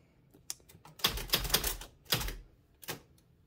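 Typewriter keys struck in quick bursts, sharp clacks bunching into fast clusters with short pauses between, close up and with no talking.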